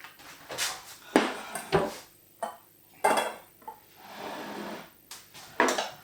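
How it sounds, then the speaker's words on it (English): Boiled potatoes being drained with the cooking liquid kept: a run of close, irregular metallic clanks and knocks from pot and strainer, with softer pouring and sloshing between the louder hits. "Now we need to drain the potatoes, but keep the liquid."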